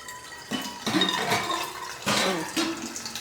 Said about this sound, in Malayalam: നമ്മൾ ഈ വെള്ളം നല്ല വെള്ളമാണ് നമ്മൾ ഒഴിക്കുന്നത്